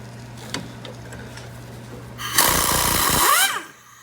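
A smaller impact wrench with an 18 mm socket zips a red-hot sway bar link nut off a Chevy Equinox, one loud rattling burst of about a second after quiet shop ambience.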